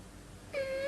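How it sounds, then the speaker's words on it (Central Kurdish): A cat gives a single clear, drawn-out meow that starts halfway through and rises at the end, heard alone over a quiet room. "بۆ نمونە ئەمە پشیلەیە"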